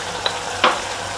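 Chili powder and spices sautéing in hot oil for chole masala, a soft steady sizzle with two brief sharp crackles, close by.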